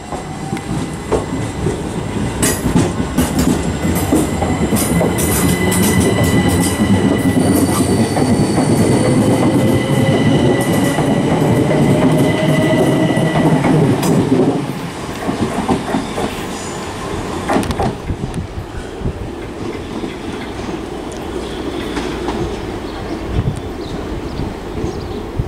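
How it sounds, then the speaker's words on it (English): A Southern class 377 passenger train departs Lewes station toward London Victoria, with a loud steady rumble and rhythmic clicking wheels. The sound drops sharply midway, then continues as a quieter rolling rumble. "now departing is going to be the 1148 Southern service to London Victoria from Eastbourne, 377465"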